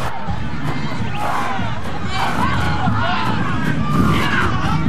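A capacity crowd at a 1997 college football game between William & Mary and Hampton roars loudly and continuously, a dense wall of cheering and shouting that swells in places across the whole stretch.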